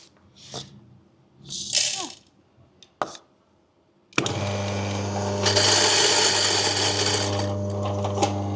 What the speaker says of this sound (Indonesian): Dengan gilingan yang sama lagi, kita sekarang giling CM26 guys.